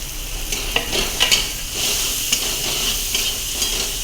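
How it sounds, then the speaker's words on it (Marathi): Fresh green peas sautéing with chillies in a pan for spicy vada pav, a loud continuous sizzle broken by several sharp scrapes and clinks of a stirring spoon. "हे सगळं छान आपल्याला परतून घ्यायचं आहे त्यामध्ये हे ओले वाटाणे हे ओले वाटाणे आपल्याला टाकून घ्यायचे"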